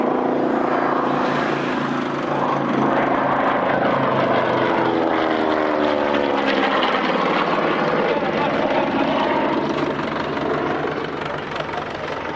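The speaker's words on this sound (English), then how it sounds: "But just a look as this aircraft flies by" Propeller aircraft flying by at an airshow, a loud sustained engine drone whose pitch sweeps downward as it passes, continuous throughout with commentary speech faintly underneath.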